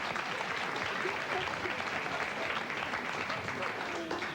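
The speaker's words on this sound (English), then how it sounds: "You're going to applaud this?" A studio audience at a 1995 TV talk show applauds steadily, dense clapping filling the room at moderate level, with a voice speaking faintly under it.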